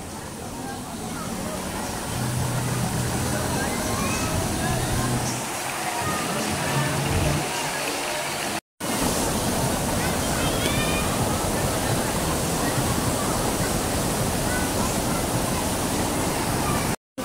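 St. Anthony Falls roars as a loud, continuous wash of falling water, steady and close, with wind buffeting the microphone and a few voices faintly mixed in early on.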